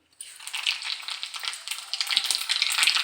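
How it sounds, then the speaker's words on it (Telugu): Tempering seeds hit hot oil and burst into a loud, close, crackling sizzle that starts abruptly and keeps popping steadily throughout, growing slightly denser toward the end. "ఆయిల్ వేడెక్కిందండి. ఇప్పుడు పోపు విత్తనాలు వేసుకుందాం."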